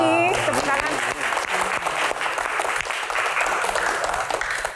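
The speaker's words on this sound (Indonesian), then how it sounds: "Tsunami, tepuk tangan." An audience claps on cue at a televised Q&A event about disaster response, dense and sustained for the full stretch after a brief voice at the start.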